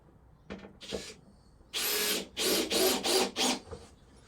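A power drill drives screws into a full-size plywood Santa sleigh, starting with a couple of short bursts and then settling into a run of four or five loud, close whirring pulses with brief gaps between them.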